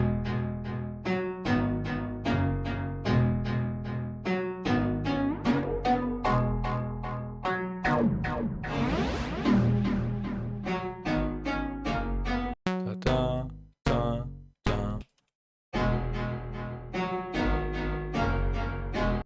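Synth processed through the Filterverse filter plugin with customized settings, playing rhythmic bright chords that sweep and morph, with a swirling filtered passage midway and choppy gated stutters near the end.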